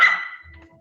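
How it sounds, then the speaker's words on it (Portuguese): A fierce-sounding dog lets out one sharp, fairly loud bark right at the start, which quickly fades into near silence with only a faint low hum. "Que cachorro brabo, meu irmão."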